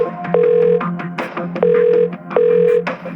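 A telephone rings unanswered, three loud electronic tone bursts in a steady repeating pattern, close and clear with no one speaking.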